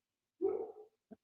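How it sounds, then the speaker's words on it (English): A single muffled dog bark from a distance, followed by a brief faint yip, otherwise quiet. "Apologies if you can hear that loud ass dog outside my window."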